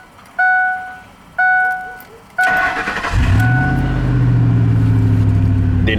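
A 2006 Ford F150 with the 4.6 V8 cranks with a few short starter bursts, then fires up and settles into a loud, deep exhaust rumble close by.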